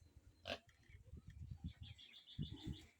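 Native boar on a farm, faint low grunts in short rhythmic bursts close by, with a sharp squeal near the start and thin bird chirps in the background.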